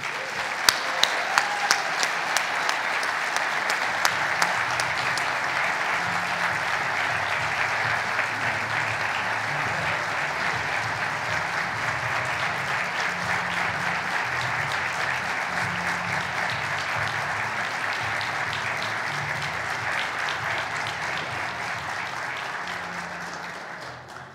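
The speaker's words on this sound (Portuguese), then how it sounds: "uma salva de palmas ao Plínio e à equipe dele." A large conference audience applauds steadily for over twenty seconds, a thick, even wash of clapping that slowly fades near the end.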